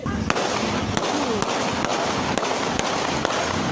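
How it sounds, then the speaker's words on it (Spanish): Sharp cracking pops ring out at irregular intervals, about eight gunshots fired from a vehicle, over a dense, noisy outdoor background with voices. "de repente unos disparos"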